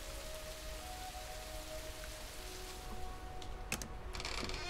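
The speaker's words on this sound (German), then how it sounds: "Draußen regnet's." Rain falls outside in the survival game Rising World, a soft, continuous hiss of droplets with a few faint clicks near the end and no talk.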